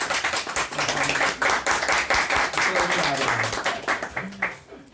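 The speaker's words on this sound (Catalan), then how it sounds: "li hauríem de fer un gran aplaudiment" An audience at a Catalan-language lecture breaks into loud, sustained applause, dense clapping for several seconds that thins toward the end, with a voice speaking over it.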